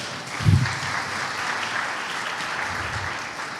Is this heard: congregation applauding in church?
yes